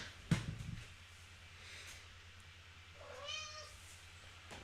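A cat meows once, a short, fairly quiet call heard alone after a brief knock, in a quiet room.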